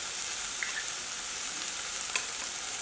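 Sweet potato frying in a pan gives a steady close sizzle with fine crackle throughout, plus a faint tap near the end.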